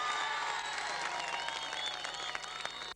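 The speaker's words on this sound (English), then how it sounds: "I think they deserve a big round of applause" Audience applause for a hurling team after a county final victory, dense sustained clapping from a crowd that cuts off abruptly at the end.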